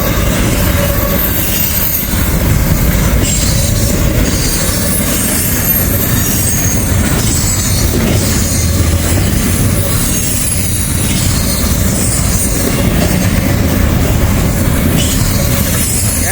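A long freight train loaded with FedEx containers rolls past through fog in Kentucky, its loud, continuous rumble of wagons and wheels filling the air with rhythmic clatter and occasional high wheel squeal, close by and with no voices.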